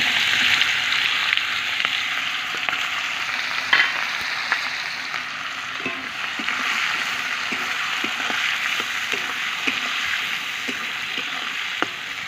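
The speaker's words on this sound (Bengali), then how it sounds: "আলু ভাজা তেলের মধ্যে পেঁয়াজটা দিয়ে দেবো।" Sliced onions frying in oil left over from frying potatoes, a steady loud sizzle with scattered crackles and pops and occasional clicks of stirring throughout.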